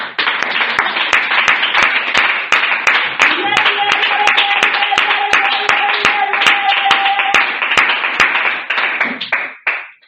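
A church congregation claps and cheers, a loud, continuous crowd clapping with sharp regular beats running under a tonal cry and voices before fading out.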